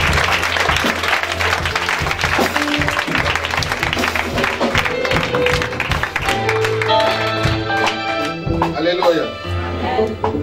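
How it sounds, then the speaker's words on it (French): Church congregation applauding and cheering for Jesus during a prophet's sermon, a sustained loud wash of clapping with crowd voices and music rising underneath, speech heard over it. "Est-ce qu'on peut acclamer Jésus?"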